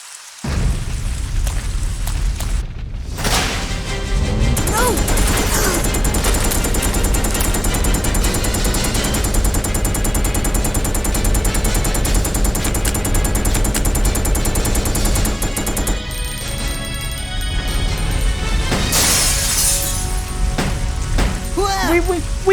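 Gunfire in Resident Evil Code: Veronica X: loud, sustained bursts of shots and booming blasts with reverberant rattling, running continuously with a brief lull near the middle, under background game sound.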